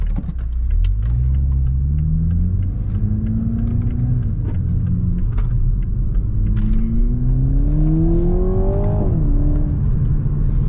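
A stock Toyota Mk5 Supra engine pulls hard through the gears, a loud droning rise in pitch with a shift and then a longer climbing rev, steady road rumble underneath and no talking.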